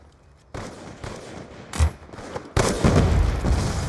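Gunfire in a shooting video game aimed at people aboard a helicopter: a quiet start, a sharp blast near two seconds, then a loud sustained burst of rapid shots and booms over the final second and a half.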